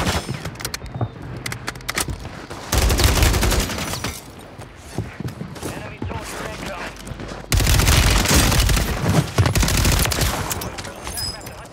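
Rapid automatic gunfire in a video game, bursts of shots coming in two loud dense stretches with quieter gaps between them, with a voice speaking briefly over the action.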